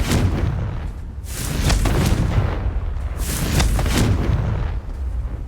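The Confringo blast spell explodes in Hogwarts Legacy with loud, booming bursts: two big explosive blasts with rumbling tails, plus smaller crackling hits, close and dominant with no talking.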